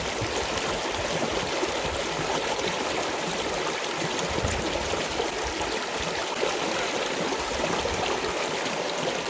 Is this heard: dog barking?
no